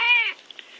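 A single short cat meow, close and clear, fading quickly into a quiet room with a few faint small knocks afterward.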